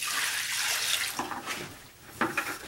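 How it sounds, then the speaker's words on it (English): Water pours steadily into drywall compound for mixing in a close, splashing stream, with a few gurgling surges near the end. "So I'm just going to add a little water to this."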